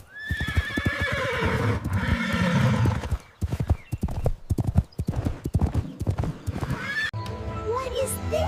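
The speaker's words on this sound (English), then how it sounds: "It's a horse." A horse whinnies loudly and close at the start, then its hooves clip-clop in a steady, quick rhythm for several seconds, with another brief neigh near the end.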